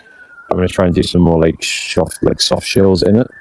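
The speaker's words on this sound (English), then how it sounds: "Excuse the siren." A siren passes outside, its steady wail sitting faintly beneath a person talking close to the microphone throughout.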